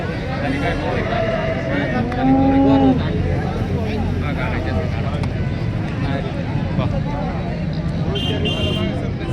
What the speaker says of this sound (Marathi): खडकीची खडकीची गाय आहे